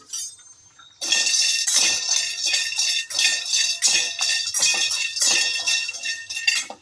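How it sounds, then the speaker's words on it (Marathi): Dried lentil dumplings (sandge) dry-roasting in a pan, giving a dense, continuous clatter of hard pieces rattling and clinking against the metal, loud and steady, after a quieter first second. "हे मी सांडगी घेतलेली आहे ते आता मी छानसे भाजून घेते"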